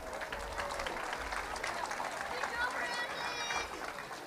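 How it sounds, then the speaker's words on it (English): An audience applauds the performing artists at a 2022 Easter Jam event, a steady, dense wash of clapping and crowd noise that holds at an even level throughout without a clear break. "One more round of applause for our artists."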